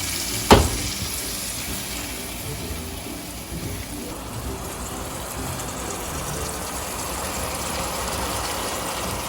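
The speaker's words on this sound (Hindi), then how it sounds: "यहाँ पे हाफ कप योगर्ट है तो इसमें शामिल कर रही हूँ और इसको थोड़ा सा हल्का सा भून लें" Yogurt frying in a hot pan for kabab pulao, a steady loud sizzle that holds throughout, with a brief clatter of stirring near the start.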